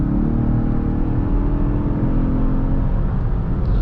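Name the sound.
Lincoln Aviator twin turbo V6 engine revving in Excite mode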